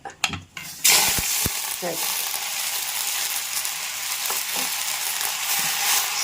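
Gongura leaves frying in the same pan, a steady loud sizzle with a few clinks of a stirring utensil at the start, running continuously.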